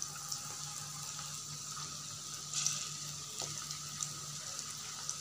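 Okra (bhindi) frying in hot oil over a medium flame, a quiet continuous sizzle and hiss with a few faint pops and clinks, heard alone without voices.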